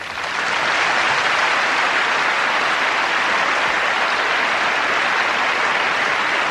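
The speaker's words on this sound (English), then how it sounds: "it's a tradition in the Eurovision Song Contest, the first country to get 12 votes gets a big round of applause." A large arena crowd applauds steadily and loudly during the voting at the 1988 Eurovision Song Contest, a dense, continuous roar of clapping with no talk over it.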